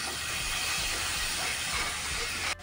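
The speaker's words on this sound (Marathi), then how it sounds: "2 मिनिटं मटकी तेलामध्ये परतून घ्यायची आहे." Moth beans (matki) frying in hot oil with turmeric, a steady loud sizzling hiss that runs unbroken and then cuts off abruptly near the end.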